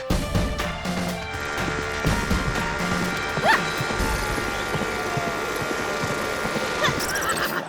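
A horse whinnies loudly around the middle and again near the end, with clip-clop hoofbeats and scattered knocks and clatter around it in a comedy scene.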